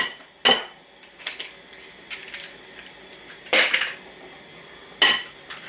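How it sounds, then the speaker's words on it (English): Two eggs cracked against a bowl's rim in the kitchen, three or four sharp, bright clinks and taps spaced a second or so apart, close and fairly loud, with nobody speaking. "I'm going to add 2 eggs."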